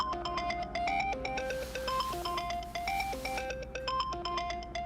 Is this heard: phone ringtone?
yes